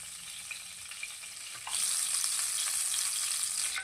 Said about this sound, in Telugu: నేనైతే ఆయిల్ వేడెక్కిన తర్వాత దీంట్లోకి ఆవాలు జీలకర్ర వేసుకుంటున్నాను